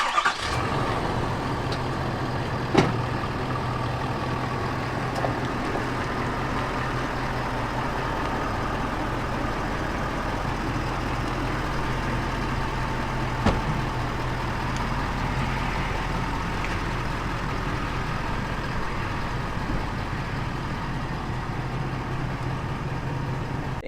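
A Ford F-450 pickup truck idles and rolls into a shop, a steady low engine rumble with a couple of faint clunks along the way.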